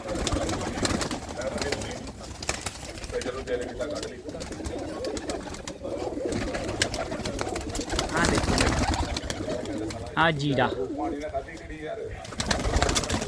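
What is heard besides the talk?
pigeons cooing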